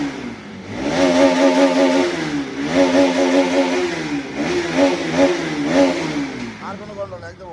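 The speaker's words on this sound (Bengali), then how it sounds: "ফুল আরপিএম উঠছে।" Engine revving repeatedly to full RPM after injector and filter cleaning, rising and falling in steady cycles with a strong harmonic whine, loud and close, with voices faintly underneath.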